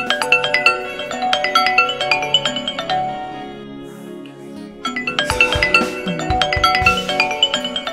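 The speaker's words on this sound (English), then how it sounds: "your phone has been ringing" A mobile phone rings with a bright, repeating melodic tone, loud and close, briefly pausing midway before the chiming pattern resumes; no talking is heard over it.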